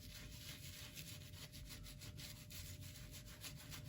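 A brush scrubs glaze onto textured Anaglypta wallpaper in a continuous, close, rasping rub with quick back-and-forth strokes and no talking.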